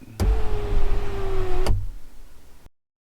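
A car's electric sunroof motor, activated from a diagnostic scanner, whirs steadily for about a second and a half. Its movement begins and ends with sharp mechanical clicks, heard close and alone, followed by a brief low hum.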